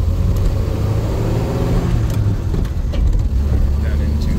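Original 1948 DeSoto Deluxe with Fluid Drive, heard from inside while driving: a steady low engine rumble and road noise, with faint clicks over the top.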